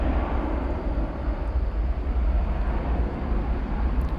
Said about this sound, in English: headed out now, American Airlines Flight 2777 to Los Angeles